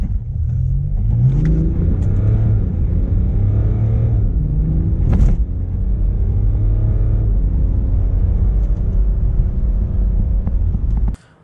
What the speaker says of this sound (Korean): 여기서 한번 X5 30D의 가속 성능을 보고 오실까요?